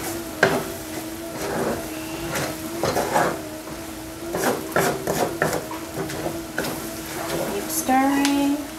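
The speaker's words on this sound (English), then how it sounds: "Keep stirring." Crab noodle soup stirred in a pot over high heat, with irregular close utensil scrapes and knocks against the metal under a faint sizzle, steady hum beneath.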